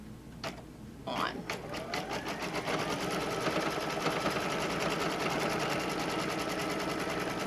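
An embroidery machine stitches a zippered pouch in the hoop, making a fast, steady mechanical chatter of needle strokes. It starts with a few separate clicks and then settles into a continuous close-up rattle.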